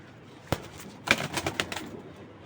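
Racing pigeons, an original Johnson line male kept with a female, give a few soft, low coos and throaty murmurs in short bursts. The pigeons sound fairly close but quiet, with no talking.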